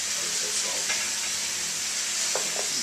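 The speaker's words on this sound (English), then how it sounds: "We're going to cook it until the onions are sweated down" Onions and meat for chili sizzle and fry steadily in a pot, a constant bright hiss with a couple of faint stirring scrapes near the end.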